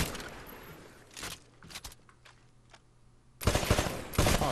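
Rifle gunfire at shooting range targets in Titanfall: a few single shots and short bursts early on, then heavy, dense rapid fire in the last second, loud and close with faint footsteps between.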